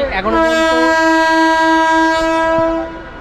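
A passenger train on the Kolkata to Bardhaman line sounds a loud, close horn blast that holds steady for almost three seconds before fading out.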